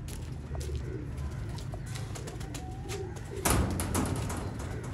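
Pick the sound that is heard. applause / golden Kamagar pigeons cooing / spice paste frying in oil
golden Kamagar pigeons cooing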